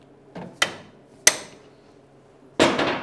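A hammer strikes a tight U-joint on a Dana 44 front axle from a GMC, fitted into an 87-96 Ford F150, four sharp metallic blows at uneven spacing, close and loud, with no talking.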